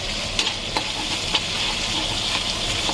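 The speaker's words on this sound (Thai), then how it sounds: "ยายจะผัดกะเพรากะเพราหมูค่ะทุกคน" Pork with holy basil stir-fried in a pan for pad kaphrao, a steady loud sizzle with scraping stirs and a few sharp utensil clacks, close up with no talking.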